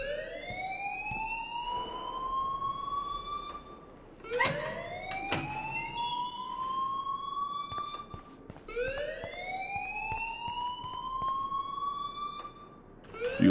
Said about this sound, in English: please turn off that alarm since that's your job